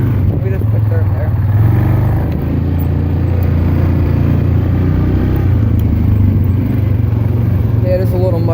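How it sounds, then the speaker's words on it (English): A four-wheeler ATV splashes across a creek while off-roading, its engine a steady low rumble with water and clatter mixed in. People talk over the noise. "I'm gonna cross the creek right now to cool my engine off."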